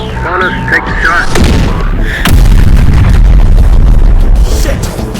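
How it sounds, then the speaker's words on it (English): In the Terminator Dark Fate Defiance war game, an explosion blows a tunnel through a cliffside: a voice speaks over battle noise, then a loud, deep boom erupts and rolls into a sustained rumbling tail. "They just blew a tunnel through the cliffside."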